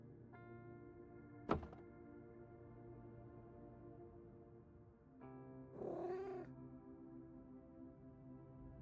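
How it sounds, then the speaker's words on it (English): In the video game Road to Vostok, a cat eats, heard as a faint close thunk, a quiet stretch of low hum, then a short murmuring meow-like sound over soft steady background tones. "Cat is eating. Do not disturb."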